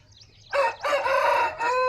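A ten-month-old young rooster of a game breed crows once, close and clear, in a short harmonic call broken into a few rising and held segments over a quiet background.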